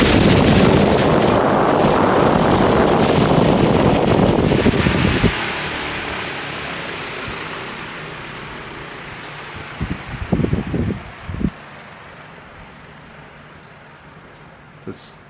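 A Lasko 30-inch industrial-grade oscillating pedestal fan on wheels, model X30400, roars with loud rushing airflow that drops off abruptly, then fades gradually as the blades coast down, with a few faint knocks near the end.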